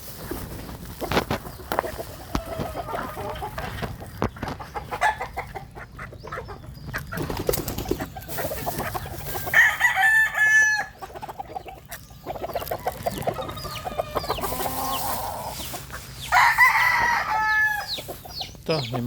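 Backyard village chickens cluck steadily at close range while a rooster crows loudly twice, with someone talking intermittently over the birds.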